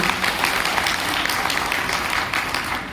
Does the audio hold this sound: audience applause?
yes